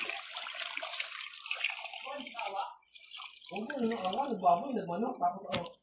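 Water pours into a pressure cooker with a continuous splashing rush while a person talks over it, close by.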